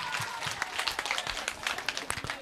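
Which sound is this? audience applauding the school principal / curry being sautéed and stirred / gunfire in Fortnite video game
audience applauding the school principal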